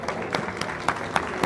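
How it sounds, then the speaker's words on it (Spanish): A Spanish-speaking audience at a science talk during a book fair gives a brief burst of applause, sparse individual claps rising over a low murmur. "Recibámosla con un fuerte aplauso."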